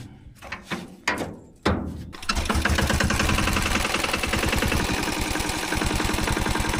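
A small engine with aluminum foil fitted over its exhaust pipe coughs through a few failed pulls, then catches and settles into a loud, steady, rapid rattling run.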